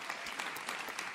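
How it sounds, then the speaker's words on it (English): Audience applause at the AMD CES keynote, a dense, steady clapping from a large crowd filling the whole moment without a break. "Applause to that."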